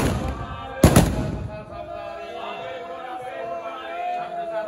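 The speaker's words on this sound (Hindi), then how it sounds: "पटाखे बजने वाले हैं" A single sharp Diwali-style firecracker bang goes off near the start of a Guru Nanak Prakash Purab celebration, with people talking and a crowd murmuring afterward.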